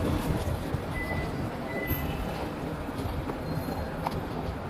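Metro train on line L3 at an underground station in Spain, a continuous rolling rumble with faint metallic squeals, heard alone without talk.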